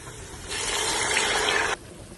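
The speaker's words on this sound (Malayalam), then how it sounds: "4 ഗ്ലാസ് വെള്ളം ചേർത്ത് കൊടുക്കാം." Water is poured into a pot of spices for chicken biryani in one steady gush lasting just over a second, fairly close, then stops abruptly.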